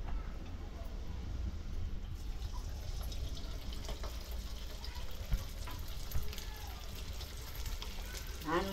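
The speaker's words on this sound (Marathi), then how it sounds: "हळूहळू तळले पाहिजे, कारण आतूनही तळले पाहिजे ना ते." Vegetable Manchurian balls deep-fry slowly in hot oil, giving a steady low bubbling hiss with faint crackles throughout and no talk over it.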